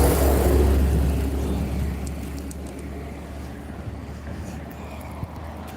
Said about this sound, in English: So you hear these lorries come tearing up behind you.